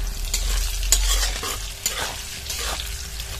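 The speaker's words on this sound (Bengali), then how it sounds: "1-2 মিনিট একটু লো ফ্লেমে রান্না করে নিয়েছি আলুর সাথে" Fried potatoes cooking with ginger and green chilli over a low flame, a close sizzle broken by several scraping strokes of a spatula stirring the pan, no voices.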